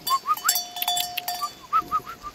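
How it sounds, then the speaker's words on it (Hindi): Goats bleat in a rapid string of short, nasal calls beside a stream in dense forest, with some light clinking mixed in and no talking. "बकरी देखिए"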